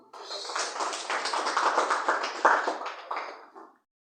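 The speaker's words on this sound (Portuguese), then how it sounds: "Palmas para Jesus." A church congregation applauding for Jesus during a worship service, a dense, steady wash of many hands clapping together for several seconds before stopping abruptly.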